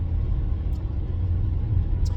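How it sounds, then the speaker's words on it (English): A car follows closely on an Ohio road, its low rumble of engine and tyres steady and loud from inside the moving vehicle, with no break in the drone. "I don't know if y'all can see the car behind me."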